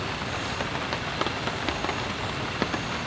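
Rain falls at a campsite beside a stream as a dense, steady hiss, with scattered sharper drops ticking on nearby surfaces.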